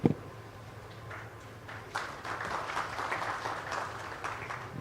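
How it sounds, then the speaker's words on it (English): A plenary session audience on India's global value chains applauds the panel speakers: a sharp opening sound, then moderate, steady clapping from a seated crowd that builds slightly and carries on evenly to the end. "I think both the first two speakers deserve an extra round of applause"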